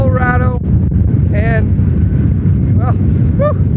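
Strong gusting wind in Cheyenne, Wyoming buffets the microphone with a loud, continuous low roar throughout, while someone talks over it.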